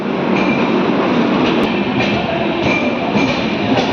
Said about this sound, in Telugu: సికింద్రాబాద్ దానాపూర్ ఎక్స్ప్రెస్ వచ్చింది, బయలుదేరిపోయింది కూడా.